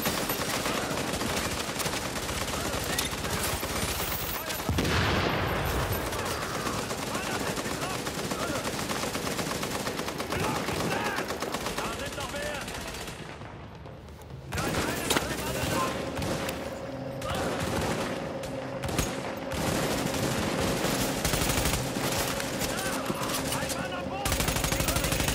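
Mounted gun turret firing in The Division, sustained bursts of automatic fire running nearly the whole time at steady loudness, with a brief lull in the middle and a voice speaking over the shooting.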